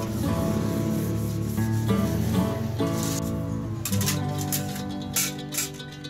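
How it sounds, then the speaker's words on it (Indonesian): A steady, scratchy rubbing of sandpaper over an acrylic number plate continues in back-and-forth strokes, close and moderately loud. "Haluskan seluruh permukaan plat nomor menggunakan kertas amplas."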